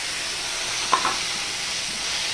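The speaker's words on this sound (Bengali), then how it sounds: "দিয়ে একটুখানি নেড়ে চেড়ে নেব" Tomato, garlic and salt frying in a pan are stirred, giving a steady close sizzle with a couple of brief scrapes of the spoon partway through.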